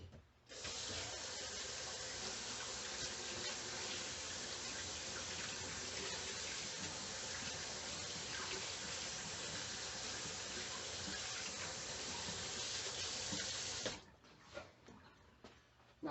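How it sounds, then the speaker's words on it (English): Running tap water while hands are rinsed in a home kitchen, a steady close splashing stream lasting about thirteen seconds before the tap shuts off. "I'm going to rinse my hands."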